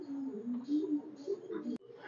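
Pigeons in a loft coo softly and steadily for about two seconds, with a low murmuring warble close by and a sharp click near the end.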